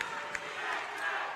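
Raucous crowd noise fills a high school volleyball gym during a Wenatchee vs Eastmont match, a steady wash of voices and cheering with a brief sharp peak early on.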